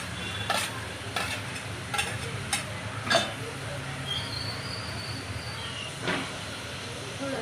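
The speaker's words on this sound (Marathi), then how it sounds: "आलं लसूणची पेस्ट टाकली आहे तेलामध्ये. तेल गरम झाल्यावरती आणि हा बारीक चिरलेला कांदा" Finely chopped onion and ginger-garlic paste fry in hot oil for mutton rassa, a faint, low sizzle punctuated by a few sharp clinks and scrapes of stirring.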